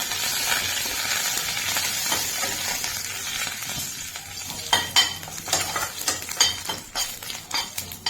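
Mustard seeds, coriander and curry leaves crackle and fry in hot oil for a tempering, with a steady sizzle and sharp popping bursts that grow denser in the second half, along with a few clinks of a spoon against the pan.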